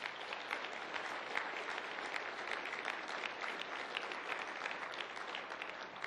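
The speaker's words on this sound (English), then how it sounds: "Let's give him a round of applause." Sustained applause from a large audience at a community breakfast honoring Robert H. Quinn, dense and steady clapping that holds evenly for several seconds with no speech.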